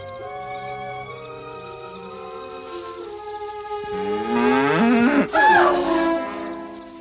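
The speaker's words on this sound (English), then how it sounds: "lost a cow" A cow lowing in a 1946 mystery film, a long loud drawn-out moo that swells and rises toward the end over a faint background score, with no talk.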